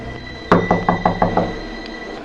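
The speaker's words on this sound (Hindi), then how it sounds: "जब दरवाजे पर अचानक दस्तक हुई" Knocking on a door on a stormy, rainy night in a horror story: six firm, evenly spaced knocks, loud and close, over a quiet background.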